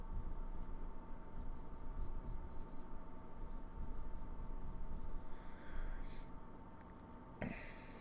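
A pen or pencil scratches steadily on paper while drawing a box during a trigonometry problem, a soft continuous writing sound up close under a low background hum, ending in a brief louder knock.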